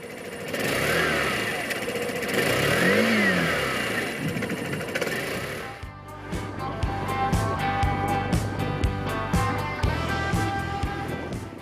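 A Daelim Steezer S 125i scooter's small engine hums and rises in pitch as it accelerates, then gives way to a steady rhythmic mechanical running sound.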